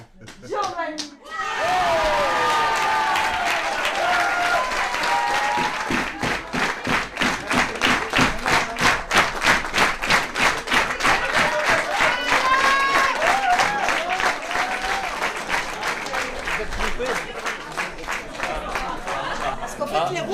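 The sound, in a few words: audience applause at a poetry slam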